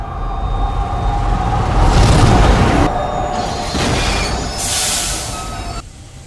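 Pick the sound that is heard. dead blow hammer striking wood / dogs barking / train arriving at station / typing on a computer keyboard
train arriving at station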